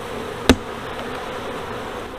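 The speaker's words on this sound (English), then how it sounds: "But this hive does have a lot of bees." Honeybees at an open hive during a multi-hive inspection give a low, steady buzzing hum throughout, broken by one sharp knock near the start.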